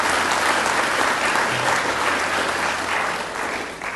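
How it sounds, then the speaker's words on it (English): Loud, dense applause from the crowd at a football club AGM welcoming a new player, many hands clapping steadily before easing slightly toward the end. "Another round of applause for Brendan."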